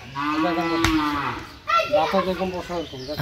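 A large cow moos loudly at a cattle market, one long call followed by a second rising moo, with a brief sharp knock between them.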